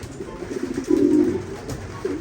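Racing pigeons coo softly in a loft, low throaty burbling calls rising and falling over a faint background hum, with one fuller coo in the middle and no voices.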